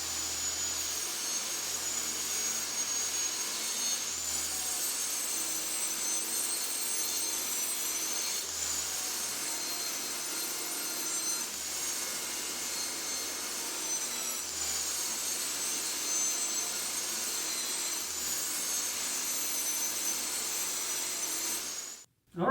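A power saw rips fence picket boards in a long, fairly quiet continuous cut lasting over twenty seconds, with slight periodic swells in the whine and no talk.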